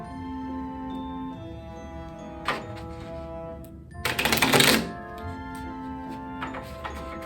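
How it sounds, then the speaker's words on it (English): A deck of playing cards is shuffled in a stage magic routine, giving one quick ratcheting riffle burst lasting under a second, with a couple of lighter card clicks over steady background music. "Now just give them a shuffle."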